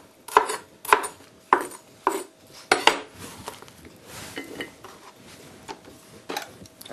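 A knife slices through a bell pepper laid skin-side down on a cutting board, producing a string of sharp, close chopping thuds, about six quick cuts followed by softer, scattered taps.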